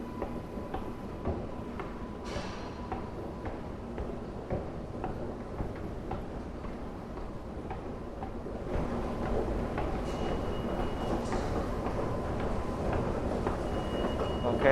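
A New York City subway train rumbles through a station in Manhattan with steady low clatter and faint ticking, then grows somewhat louder about halfway through, heard from nearby on the stairs.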